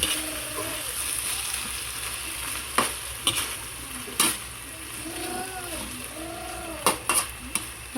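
Corned beef stirred and fried in a pan: a steady sizzle fills the clip, broken by a few sharp clinks and scrapes of the utensil against the pan.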